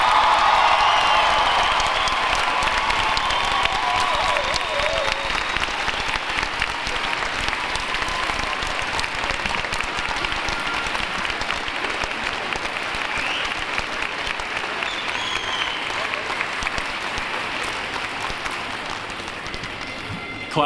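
A large crowd of university graduates at a 2017 commencement applauds their families, friends and faculty, sustained dense clapping with occasional cheers and whoops, with a brief voice early on.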